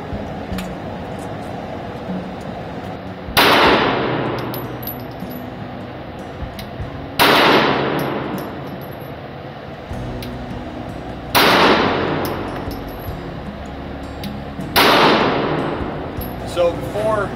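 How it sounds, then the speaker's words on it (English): Repeated rifle shots at an outdoor range, four loud sharp reports spaced a few seconds apart, each ringing out briefly over a low steady background. "We came down here, fired a large number of rounds."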